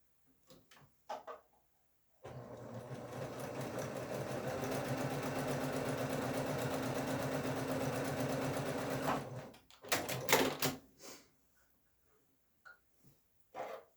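A sewing machine stitches a stained glass quilt block in one steady, close run of about seven seconds, with small handling clicks and taps before and after.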